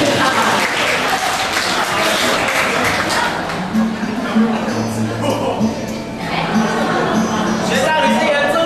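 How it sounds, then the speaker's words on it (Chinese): Audience applause at a university department karaoke contest, with dense clapping and crowd noise at the start that thins out, then someone talks over the fading claps. "那我们就再次掌声热烈的欢迎"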